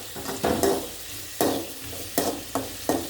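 Onions fry in oil for biryani, a close sizzle broken by several rhythmic stirring bursts, each a short scraping swell of spatula against the pan.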